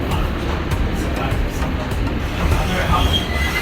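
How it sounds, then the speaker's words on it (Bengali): A Vande Bharat Express pulls into platform 1 at a halt station, giving a steady close rumble of rolling wheels and carriage noise with light rattles, under faint voices. "প্ল্যাটফর্মে ঢুকলো আমাদের ট্রেন।"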